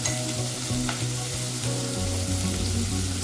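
Kumbakonam kadappa ingredients sauté in a hot pan, a steady, dense sizzle with occasional stirring scrapes, loud and close throughout with no voices.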